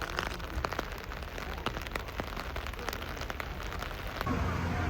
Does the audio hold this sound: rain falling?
yes